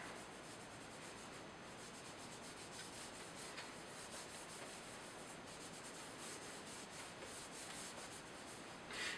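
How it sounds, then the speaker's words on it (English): A microfiber cloth rubs wax into a wooden flute, giving a steady, close, soft scrubbing hiss that runs unbroken throughout, with a brief brighter swish near the end. "you put it onto a microfiber cloth and you rub that"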